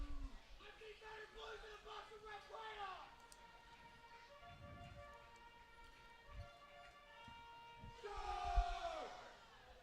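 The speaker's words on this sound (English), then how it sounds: "These kids here that are cheering on the Legends are giving this crowd a clinic on how to be at a baseball game." Children cheer and shout in the stands at a Lexington Legends versus Gastonia Honey Hunters minor league baseball game, their voices rising in sustained, siren-like calls over a noisy crowd, growing louder near the end.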